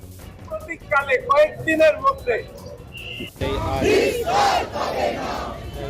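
A protest crowd gathered in front of Siliguri police station chants and shouts. A single voice with spaced bursts comes first, then a louder, massed roar of many voices that is sustained and fairly close.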